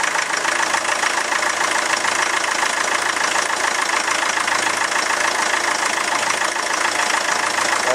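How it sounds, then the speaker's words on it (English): A steady, loud diesel engine on a common rail tester idles continuously with an even mechanical rumble and chatter, holding constant throughout with no voices. "start up the engine, it'll take a few seconds to stabilize"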